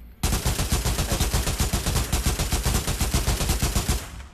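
Rapid automatic fire from a tactical AK rifle in the VR shooter Pavlov, a loud, close, sustained burst of evenly spaced shots lasting about four seconds with no talking.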